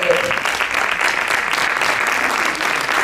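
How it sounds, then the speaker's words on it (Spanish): Steady, dense applause from an audience at an evening colloquium following a screening, continuous and fairly loud throughout with no speech over it. "Estos aplausos son para ti."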